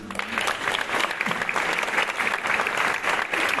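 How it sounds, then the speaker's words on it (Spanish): Sustained audience applause fills a diploma ceremony for nursing graduates on International Nurses Day, dense steady clapping from a crowd with no voices over it. "Le damos, por supuesto, el aplauso de reconocimiento a Vanessa"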